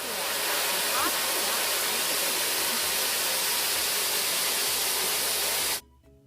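Lukewarm water pours steadily into a tub lined with a towel, ready for soaking a trumpet, making a loud, unbroken rushing hiss that stops abruptly near the end.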